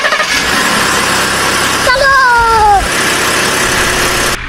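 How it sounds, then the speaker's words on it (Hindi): A JCB digger's engine starts up in a video game, a rising whine with a mechanical tonal sweep over steady broadband engine noise, fairly loud and continuous. "गाड़ी स्टार्ट कर।"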